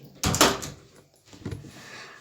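The security door in the video game Five Nights at Freddy's slams shut, giving a loud heavy thud followed by a second, softer mechanical clunk, with no talking over it.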